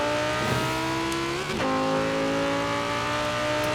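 Tractor-like engine note of a car in Forza Horizon 4 driven with a cheap plastic controller wheel, revving and climbing steadily in pitch with a brief dip and re-rise, loud and continuous with no talk.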